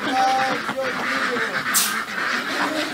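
Ducks at a duck farm stop in Vietnam quack in short, overlapping calls close by, mixed with people's voices talking over them.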